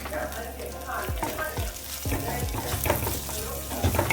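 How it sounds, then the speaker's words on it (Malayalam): Okra fries in hot oil for a Kerala kichadi, with a steady sizzle broken by repeated scraping stirs of a spoon in the pan, close up and clear. "വെണ്ടയ്ക്ക എണ്ണയിൽ കിടന്ന് മൂക്കുന്നത് വരെ വറുത്തുകൊണ്ടിരിക്കണം."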